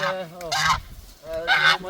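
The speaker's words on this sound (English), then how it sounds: "First I'm going to chase these geese away because they are trampling over my new" Geese honk loudly and close by in two harmonic bursts, a first call with a sharp peak around three-quarters of a second and a second call near the end, in an outdoor vegetable garden on a peninsula with muddy ground.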